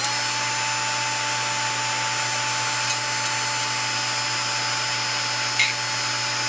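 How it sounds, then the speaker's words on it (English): A power drill spins a wire through a flap hinge channel on a Piper Super Cub wing, giving a steady, close, continuous whine with a couple of faint clicks and no talking. "Oh yeah, that's starting to drill its way in there and loosen stuff up."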